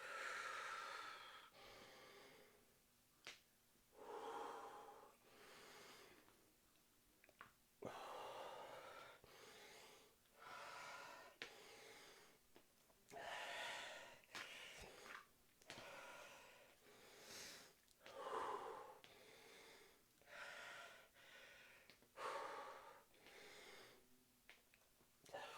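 Deep, heavy breathing after exercise: repeated loud inhales and exhales with gasps and snorts, close up and steady over about half a minute, with no talking.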